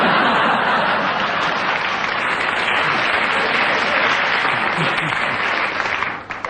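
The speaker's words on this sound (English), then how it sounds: "when they insult me, you always applaud" A studio audience at a radio panel comedy show claps loudly and continuously, a dense wash of applause that tapers off near the end.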